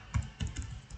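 A few quick keystrokes on a computer keyboard, entering a web address, come as short soft clicks in small bursts, close by and fairly quiet, with no speech.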